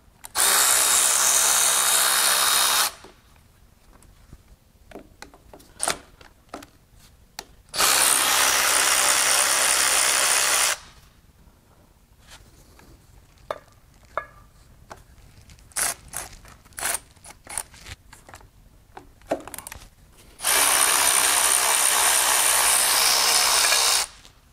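Power tool spinning out the 13 mm bolts that hold the fuel distribution pump on a 5.9L Ram Cummins turbo diesel engine: three loud sustained whirring bursts of a few seconds each, separated by quieter stretches of clicks and clanks.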